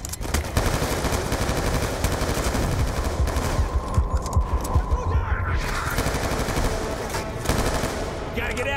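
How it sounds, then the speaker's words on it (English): Rapid automatic gunfire from the Call of Duty: Black Ops 2 PC video game, sustained bursts of machine-gun fire with scattered single shots, loud and continuous throughout with voices and game sounds mixed in. "Gunshots came from inside."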